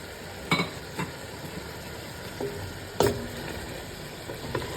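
Fried onions are stirred into mutton masala in a pan, a low continuous hiss with a few sharp scraping and clanking hits from a spoon against the pot, moderately close, with a faint steady background tone and no talk.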